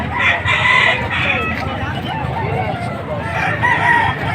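A rooster crows loudly and close, two long cock-a-doodle-doo calls with a pause between, over a noisy outdoor background at a chicken market in Padre Garcia, Batangas, Philippines.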